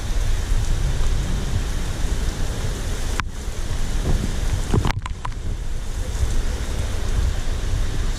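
Heavy rain pours steadily outside during a stormy, breezy spell, a loud continuous hiss with gusty wind and a couple of sharp cracks or knocks partway through.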